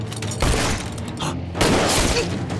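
Sniper gunfire in a war film about fighting the Japanese, a dense roar of shots and blasts in two heavy surges, loud and close, with no speech.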